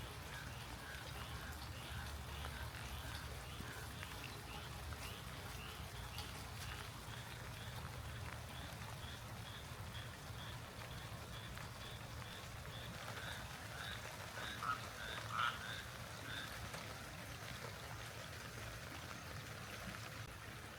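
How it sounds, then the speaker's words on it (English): Rain falling on a Carolina garden with rock beds, begonias and caladiums, a soft continuous patter of drops with faint higher chirps, fairly quiet and unbroken, with no talking. "the rain just isn't letting up"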